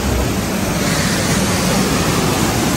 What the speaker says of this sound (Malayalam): വെള്ളച്ചാട്ടം മഴയൊന്നുമില്ലെങ്കിൽ അത്യാവശ്യം നല്ല ശക്തി തന്നെ വെള്ളം ചാടുന്നുണ്ട്